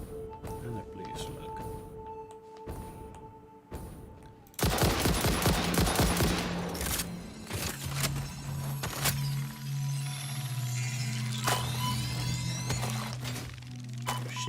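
Gunfire in the video game Satisfactory sets in suddenly and keeps up as a loud, dense fusillade of rapid shots aimed at the player, with a steady game tone running underneath.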